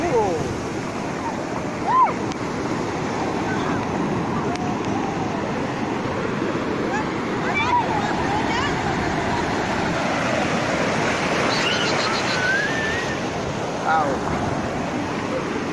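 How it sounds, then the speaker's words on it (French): Ocean waves break steadily along the Pangalanes coast in Madagascar, a loud continuous wash of surf with wind noise on the microphone and brief exclamations from people nearby. "Et la vague."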